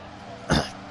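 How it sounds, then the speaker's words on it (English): A single short cough or throat clear, close and fairly loud, over a quiet steady background. "Excuse me with the coughing"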